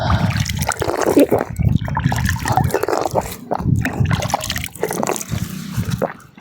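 Drinking water is scooped and poured by hand, making close, irregular splashes, sloshes and trickles that run continuously.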